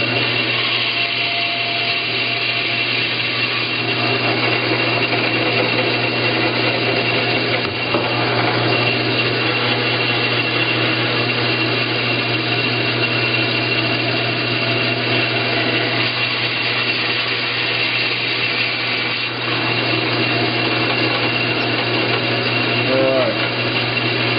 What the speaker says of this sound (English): the final polishing on an assembled part where the buffing wheel just wants to grab it and snatch it